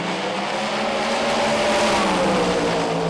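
Two turbocharged Pro Mod drag cars roar side by side down the strip at Santa Pod Raceway, a loud, continuous engine howl with a rising pitch sweep as they accelerate.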